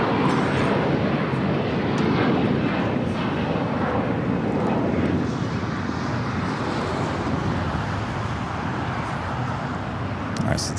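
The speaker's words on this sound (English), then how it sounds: "this is 777 heading to the southeast corner of Tom Bradley" A Boeing 777 taxis at LAX toward the southeast corner of Tom Bradley terminal, its jet engines a loud, steady broadband roar that eases slightly over time, with light wind buffeting the microphone.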